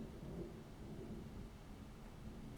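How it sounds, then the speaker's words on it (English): A thunderstorm outside: faint, distant low rumbling with a soft wash of rain, steady and muffled as if heard from indoors, with no one talking. "there's a thunderstorm outside. I don't know if you could hear that, but that's amazing."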